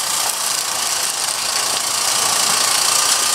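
An engine runs outdoors with a steady, dense rumble and hiss that holds at an even level throughout, close to the microphone, with no talking.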